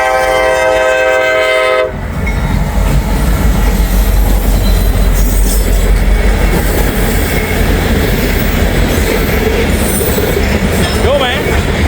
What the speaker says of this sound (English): Southbound grain train coming this way.